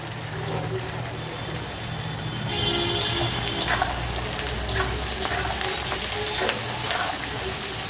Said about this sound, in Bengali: পেঁয়াজটা একটু ভালো করে ভেজে নিয়েছি